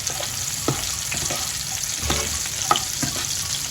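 Sweet onion fries in a pan with a steady hiss, and a utensil mixes it, giving a few soft scrapes and clicks over the sizzle.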